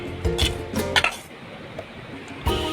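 Potato fry being moved from the pan into a serving vessel, with a few metal clinks and scrapes of a spoon against cookware early on, then quieter shuffling and a final clink.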